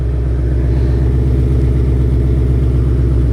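A 2018-2021 Mustang GT V8 idles with its exhaust valves open, a loud, steady, close-up burble with an even pulsing rhythm throughout.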